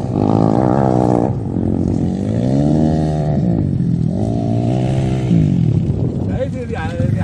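A 250 cc motorcycle revs hard during stunt riding, its loud, close engine note climbing and falling in repeated sweeps, with voices talking over it.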